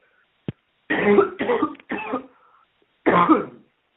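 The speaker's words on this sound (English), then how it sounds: "Got a little cough today." A few short coughs in a quick cluster, then another after a pause, close and fairly loud against silence.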